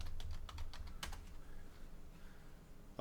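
Keys on a computer keyboard clatter in a quick burst of typing during a search, then taper off into quiet, close and fairly soft, with no one talking.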